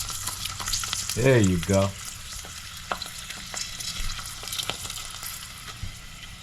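Prawn crackers drop into hot oil and fry with a steady close crackling sizzle, bursts of bubbling marking each one going in, and a short spoken remark partway through.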